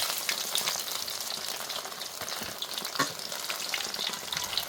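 Food deep-frying in hot oil until golden, a steady dense sizzle and crackle that carries on without a break, with a few brief louder pops and no voices.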